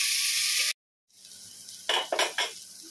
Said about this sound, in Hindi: इसे भी सब्जियों के साथ 1 मिनट भून लेते हैं।